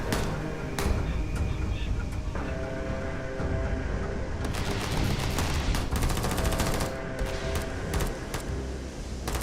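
Rapid gunfire from the video game Starfield, dense and continuous with bursts layered over a busy game soundtrack and effects, loud throughout.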